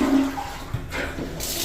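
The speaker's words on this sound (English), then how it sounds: "Toilet flushes." A residential toilet in working order flushes, a steady broadband rush of water that stays fairly loud and even through the short moment, with no voices.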